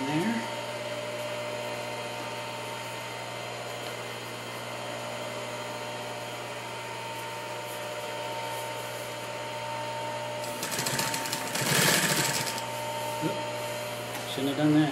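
Steady mechanical hum and whir of a Singer 281-1 industrial sewing machine stitching vinyl, continuous motor drone with a louder burst of running near the end.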